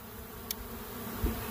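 Honeybees buzzing near a hive at the beach, a faint close insect hum with one brief passing buzz and a soft thump, no talking.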